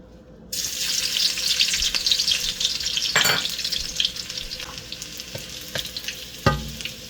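Marinated pork pata hits hot cooking oil and sautés with a loud, steady sizzle that starts abruptly, with a few stirring clanks and scrapes, close and without talking.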